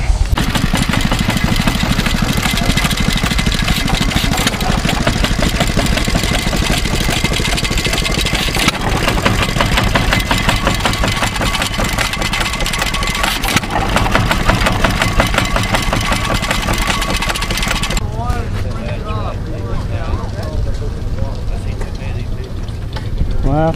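Old garden tractor engines run at an engine club show, loud chugging and knocking close by that shifts as different machines idle, with speech mixed in.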